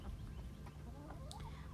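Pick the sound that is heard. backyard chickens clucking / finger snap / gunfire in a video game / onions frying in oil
backyard chickens clucking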